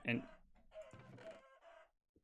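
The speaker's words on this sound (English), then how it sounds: "that poor chicken" A Minecraft chicken gives a short burst of clucking and squawking up close, followed by a brief lower sound and a faint click at the end.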